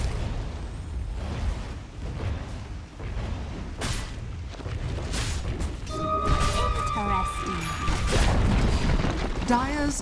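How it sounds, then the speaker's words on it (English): Tower destruction in the game Dota 2: booming, crumbling structure collapse with explosive bursts amid busy game effects and music, followed by bright ringing tones near the end, steady and fairly loud throughout. "Dire's top tower has fallen."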